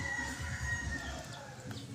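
Chickens on a small backyard farm, a rooster's drawn-out crow carrying over soft clucking, fairly faint and a little distant with no one speaking.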